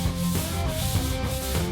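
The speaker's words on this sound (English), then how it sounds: "The sanding ended up being way messier than I'd expected." Sanding plaster on a brick wall, a continuous close, loud gritty rubbing with steady back-and-forth strokes throughout.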